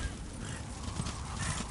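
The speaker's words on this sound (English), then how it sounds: "One of the other times we get to actually ride a horse in this game?" Horse hooves clip-clopping at a steady gallop in the Darksiders video game, a dense continuous run of hoofbeats with no talk over it.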